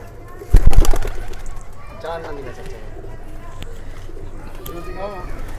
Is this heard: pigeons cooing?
yes